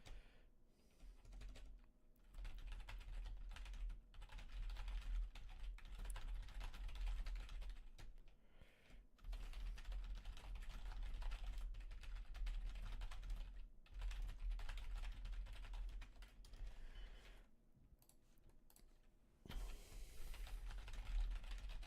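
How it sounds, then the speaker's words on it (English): Steady typing on a computer keyboard during a webcam card tournament, a continuous run of quick, close clicking keystrokes with brief pauses, faint and without talk. "I'm typing."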